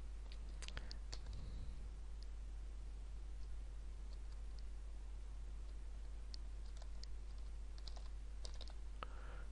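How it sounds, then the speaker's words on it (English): Soft, irregular keyboard clicks tapping away at close range, with a faint low hum in the background and no talking. "typing my password"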